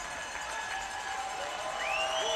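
Hockey fans cheer during a playoff game between the Prowlers and the Black Bears, a distant, sustained arena crowd roar with rising whistle-like tones cutting through.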